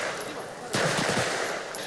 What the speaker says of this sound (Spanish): Los policías apuntan a su blanco utilizando un arma tipo fusil.